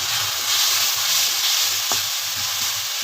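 Green chilies and coarsely pounded garlic-ginger paste fry in a pan for keema with bell peppers, giving a steady close sizzle and crackle with a few soft stirring clinks throughout.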